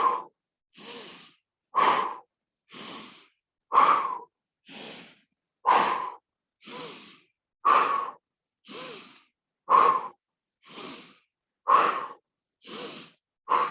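Rhythmic pumping breaths during a Pilates swimming exercise on the mat: fourteen or so short, forceful huffs in a steady alternating pattern, close and clear with brief silences between, no talking.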